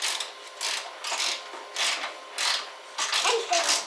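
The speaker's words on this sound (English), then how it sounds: "Just after you do that, it'll go ratchet." Ratchet wrench clicking during a bumper install on a BMW E46, repeated bursts of rapid ratcheting in an uneven rhythm, close and moderately loud, with more than one ratchet working at once.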